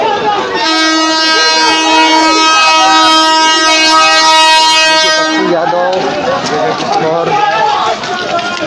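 A train halted by protesters on a railway track in Bihar blares a long, loud, sustained horn over a noisy crowd, with voices and shouting continuing after the horn stops.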